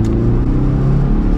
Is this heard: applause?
no